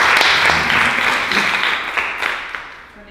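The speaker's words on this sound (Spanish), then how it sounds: "Con este aplauso queda inaugurada la seminario 2017" A seminar audience in a hall applauds, dense clapping that starts strong and gradually thins and fades over a few seconds.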